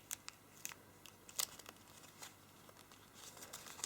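Origami paper for a spinning top crinkles and rustles softly as it is creased and folded, with faint scattered crisp ticks close to the ear and no talk.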